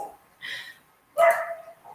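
A neighbor's dog barks twice in the distance, two short muffled yaps about a second apart.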